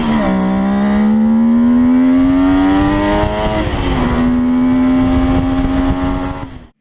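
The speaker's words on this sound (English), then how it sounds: "this new motorcycle, now dubbed the Mach III, it really just spoke for itself" A Kawasaki H2 Mach III three-cylinder motorcycle accelerates hard, its loud, raspy engine note climbing steadily in pitch, dipping at a gear change, then climbing again before fading out.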